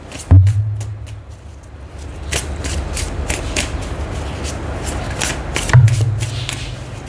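A deck of tarot cards is shuffled by hand up close, with repeated crisp riffles and flicking card slaps in quick bursts and dull thuds at the start and end, and no talk over it.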